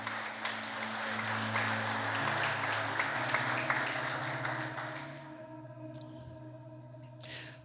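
A church congregation applauding during a sermon, steady clapping that thins and fades out toward the end, with sustained musical tones beneath and a few faint pings afterward.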